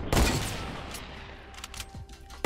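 Gunfire rings out in Fortnite, a short burst of loud, close shots, then lighter scattered cracks and one more sharp shot at the end, with no voices.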